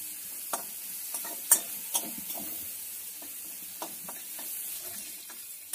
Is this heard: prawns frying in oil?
yes